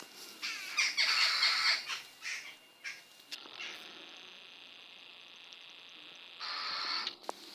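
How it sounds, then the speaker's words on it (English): Bird squawks by rocks and caves at Baildon Green, a dense burst of calls in the first few seconds followed by quieter outdoor ambience and a brief return of noise near the end. "Squawking."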